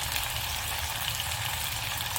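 Onion and garlic frying in a pan for a madras curry, a steady close hiss of sizzling oil that stays even throughout with no talk.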